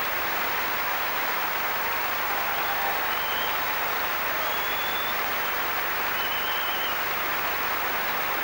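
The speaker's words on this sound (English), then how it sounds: "And the applause for the victor" Crowd at the 2003 Wimbledon ladies' singles final between Venus and Serena Williams gives sustained, even applause filling the stadium, a dense wash of clapping heard from a distance without a break.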